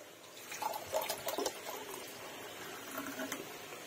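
Water pours from a jug into a container at a home kitchen counter before mixing sattu with salt, a soft splashing trickle in short bursts near the start, then a quieter steady background.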